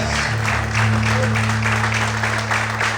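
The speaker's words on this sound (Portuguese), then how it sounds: "Vamos poder aplaudir e exaltar o Senhor nessa noite." A church congregation at an evening worship service claps in a steady, full wash of applause under a sustained low organ or keyboard drone.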